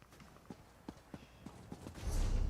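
Horse hooves clip-clop at a steady walking pace in Elder Scrolls Online, set in Western Skyrim. About eight clear, close hoofbeats are followed by a louder surge of movement.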